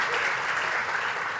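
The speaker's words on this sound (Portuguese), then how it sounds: "palmas para ela" A school debate audience claps steadily for a guest, a dense, continuous wash of applause that holds at even loudness throughout without voices standing out.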